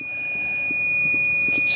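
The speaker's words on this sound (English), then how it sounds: "I just disconnected, and it senses an error and there's an alarm" An Inkbird ITC308 temperature controller on a reef tank sounds its error alarm after its probe is unplugged. A steady, high electronic tone rings close by and grows slightly louder, with faint background noise.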